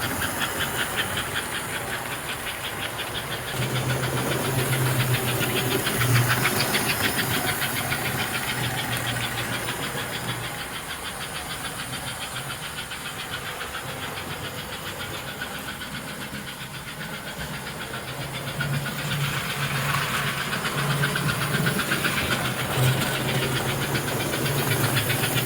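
An American Flyer model train engine runs steadily, giving a continuous hissing, chuffing mechanical drone with a low hum that swells and fades slightly over the stretch, no voices heard.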